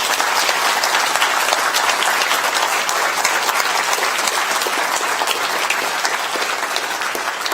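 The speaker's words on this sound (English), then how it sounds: "give them a round of applause too" A large audience at a public talk on planning the Cassini mission's Grand Finale claps steadily, a dense, loud, even applause that holds for the whole stretch without any voice.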